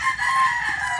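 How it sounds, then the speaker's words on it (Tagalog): A rooster crows loudly and close by, a sustained strained call with no talking. "Ito manok."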